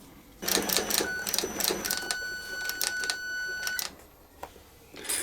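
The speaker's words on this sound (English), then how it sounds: "So I will get sewing." A sewing machine stitches a leather mailbag seam in short rapid bursts with brief pauses between runs, close and clear over a quiet room.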